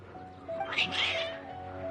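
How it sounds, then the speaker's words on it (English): Cats meowing in the Genshin Impact video game, a couple of agitated mews rising over a steady background music tone, fairly close and clear. "Your cats seem pretty worked up."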